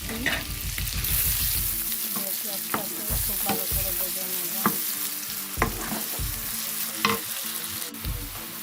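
Onions fry in oil in a pan for an arborio rice risotto, with a loud, steady sizzle and repeated scraping taps of stirring, while someone speaks briefly over it.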